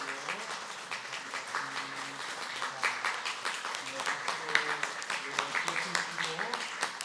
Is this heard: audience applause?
yes